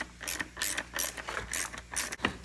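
A ratchet wrench clicks rapidly while backing out a bolt on a Stihl MS 260 chainsaw, giving a close, crisp series of metallic pawl clicks in short repeated bursts with brief pauses between strokes.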